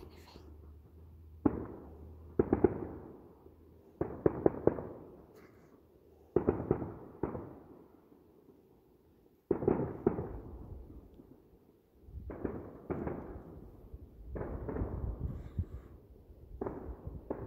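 Fireworks go off at a distance in a series of sharp bangs, some in quick pairs, each followed by a rumbling decay, spread irregularly across the stretch.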